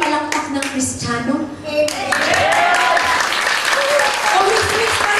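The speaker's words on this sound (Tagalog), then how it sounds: "Yan ba yung palakpak ng Kristiyano?" A church congregation applauds during a Sunday preaching service, broad sustained clapping filling the room, with voices and speech mixed over it.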